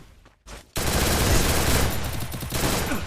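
Free Fire battle royale gameplay: after a brief quiet moment, a dense burst of rapid automatic gunfire erupts and keeps roaring loud and continuous, with shots blurring into one sustained barrage.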